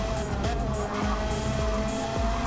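Gran Turismo 7 race car under hard braking, a steady loud engine drone with gear-change blips and a faint tire squeal running through, close and continuous with no voices.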